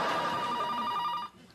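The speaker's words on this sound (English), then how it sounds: "Lauren, phone." A telephone bell rings with a rapid, trilling electronic warble, fairly loud and close, then cuts off near the end, with no voices over it.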